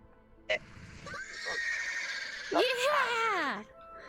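A horse whinnies in a video game, a loud descending neigh with a brief clip-clop, while a nearby voice talks over the game sounds.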